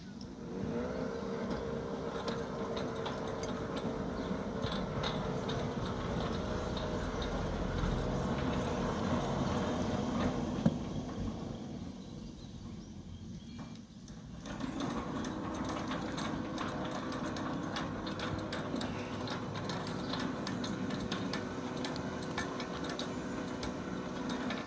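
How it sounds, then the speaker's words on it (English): A Centurion D5 Evo sliding gate motor runs with a steady mechanical hum and ticking drive noise, stopping briefly partway through before starting up again, heard from a short distance with no talk. "So let's quickly look at our gate motor."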